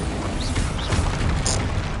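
A Bombarda spell explodes in the Hogwarts Legacy video game, a dense low rumbling boom that holds steady across the moment, with a brief bright crackle near the end and no voices.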